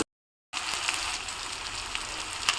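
Chopped vegetables hit hot oil in a pan for a chapati-based street-style dish: after a short silence a loud, steady hiss of frying begins, with small crackles and pops scattered through it.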